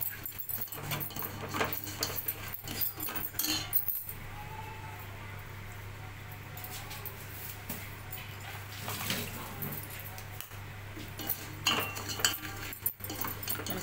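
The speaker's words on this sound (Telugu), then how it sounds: "ఇప్పుడు ఇందులోనే ముందుగా తీసుకున్న రవ్వ అయితే వేయించుకుంటున్నాను." Semolina (rava) roasts in a pan for sooji halwa while a utensil stirs it, giving faint scraping and occasional metallic clinks against the pan at a low, quiet level.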